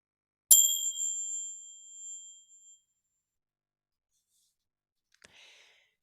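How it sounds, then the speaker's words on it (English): A meditation chime struck once, a bright ringing tone decaying over about two seconds into silence, with a faint small tap afterward. "I'll now ring a chime one time to signal the start of our practice"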